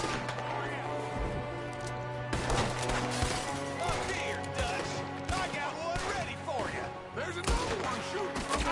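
Shots crack from a window in a Red Dead shootout, a ragged string of sharp gunfire bursts at varying distances, mixed with loud game sounds and voices talking over them.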